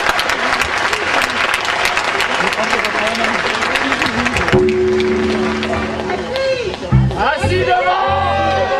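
Audience applauds the musicians Wawa Adler and Marcel Lafleur with loud, dense clapping amid crowd chatter, which then fades into shouts and voices as people begin talking.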